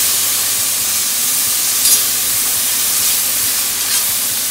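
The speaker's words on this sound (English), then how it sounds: "So we're gonna get the bacon and put it into a hot pan." Bacon sizzling in a hot pan, a loud continuous hissing spatter close up with a few brighter crackle bursts, no voices.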